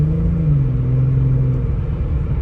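A built Toyota Supra making 800 to 1000 horsepower, with a TH400 transmission, revs on a cold street. A close, steady, deep rumbling engine note holds throughout with a slight dip, and no talk.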